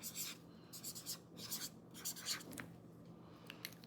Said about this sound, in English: I'm just gonna write on the envelope here.